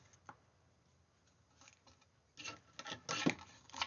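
A folded paper card is burnished with a rubbing tool, giving quiet scattered scrapes at first and then a louder run of close, rasping strokes near the end.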